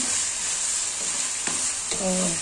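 Ash gourd (jali kumra) bhaji frying in a pan, a steady, fairly quiet sizzle with a couple of brief clicks of a utensil stirring against the pan.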